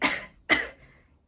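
Two sharp coughs about half a second apart, close and fairly loud, the second slightly stronger, followed by a faint breathy tail and quiet.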